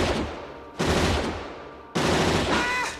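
Dense layered movie gunfire for RoboCop, many guns stacked with synth sweeteners, comes in three loud sustained bursts of rapid automatic fire with sharp onsets and no talking.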